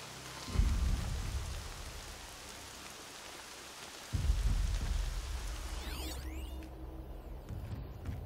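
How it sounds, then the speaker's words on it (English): Steady rain pouring down, with low rumbles of thunder swelling in twice, the second lingering as the downpour continues. "Rain's not so bad."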